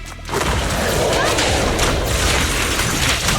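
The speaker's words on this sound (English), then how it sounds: "Fireworks." Video game fireworks go off as a dense, continuous crackle of bursts and booms, loud and sustained after a brief quiet start, with faint voices underneath.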